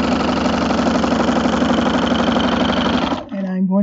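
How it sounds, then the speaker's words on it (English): A sewing machine fitted with a walking foot stitches a quilt block in a steady, fast, close-up mechanical whir that runs continuously, then stops abruptly near the end with a brief soft rattle. "And I'm going to sew right off the edge, just like that."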